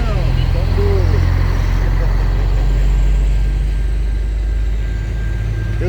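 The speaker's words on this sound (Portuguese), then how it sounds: "Olha o tamanho do caminhão que está passando aí." Large trucks passing by on a road, a loud continuous low rumble and roar of heavy traffic that swells and slowly fades, with a person talking over it.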